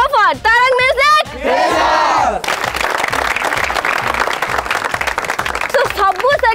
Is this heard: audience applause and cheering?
yes